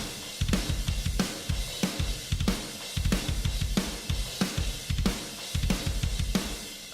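A metal drum kit blended with Drumshotz samples plays a tight, fast groove: rapid kick patterns under sharp, regularly spaced snare hits and cymbal wash, punchy and close, without any talking.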